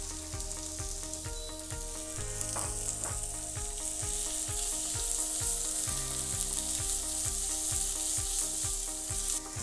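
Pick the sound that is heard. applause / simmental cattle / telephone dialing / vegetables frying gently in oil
vegetables frying gently in oil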